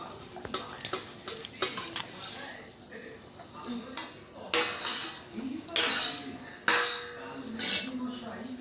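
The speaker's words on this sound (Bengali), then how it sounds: "আমি থালাটা খুলে দেখছি কেমন হয়েছে ঝোলটা।" A lid comes off a pot of simmering chicken and new-potato curry with several metallic clanks and scrapes of the cover and utensils, close and fairly loud, with brief gentle sizzling between the bursts.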